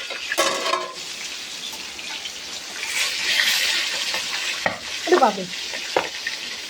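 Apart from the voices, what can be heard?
boal fish curry bubbling and sizzling in pan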